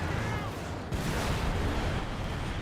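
A Soviet SU-76 self-propelled gun firing high-explosive rounds during a Company of Heroes 2 battle, with a heavy boom and rumbling blast layered into dense, continuous combat noise.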